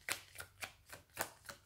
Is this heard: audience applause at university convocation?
no